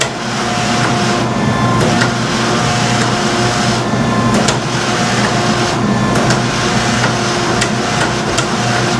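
A Damascus steel billet for an integral hunting knife is flattened at a forge, giving loud, dense, continuous pounding and mechanical rumble throughout with a few sharper impacts.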